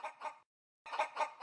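Cartoon chickens cluck in two short bursts separated by a clear pause, loud and close, with no talk over them.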